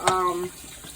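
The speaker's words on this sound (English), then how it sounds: "Now all you're gonna do is just start adding your water." Water runs briefly from a tap into a pan of thick gravy for smothered cubed steak, a short gush near the start that cuts off after about half a second.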